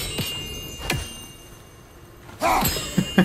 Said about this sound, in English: Do you just like hearing the sound of the chimes?